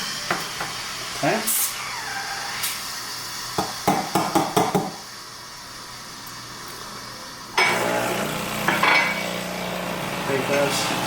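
A Breville Barista Express steam wand heating milk for a latte: a short hiss, then clinks and knocks of a pitcher, then a longer rushing steam hiss near the end, with a brief spoken word.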